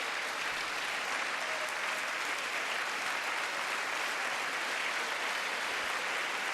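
Sustained applause fills a large chamber during the State of the Union address, a dense, steady wash of many hands clapping at a constant level throughout with no break.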